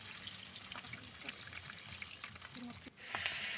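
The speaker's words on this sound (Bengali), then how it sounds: "মাছগুলো দেখুন, মাছগুলো ভাজা প্রায় হয়ে এসছে" Rohu fish pieces fry in a pan with a steady crackling hiss, fairly quiet and continuous, briefly cutting out near the end before resuming. No one speaks over it.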